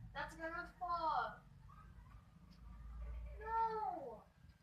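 A cat meows twice, close and clear, with drawn-out rising and falling cries separated by a short pause over a low background rumble.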